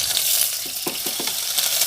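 Tempering spices crackle and sizzle in hot oil, a brief bright hiss with a few quick popping scrapes, close and alone.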